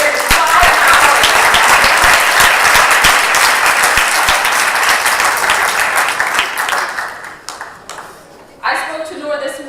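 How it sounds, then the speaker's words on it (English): A conference audience at a startup event in Tunis breaks into loud, dense applause that slowly thins out and fades near the end, followed by a brief voice. "A warm applause for an entrepreneur who's here in 5 hours."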